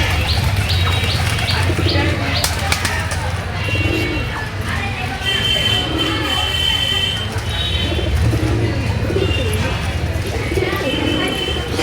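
Pigeons coo with soft repeated calls alongside chirping birds at a morning feeding, heard over a steady low rumble of background traffic and noise, with occasional voices.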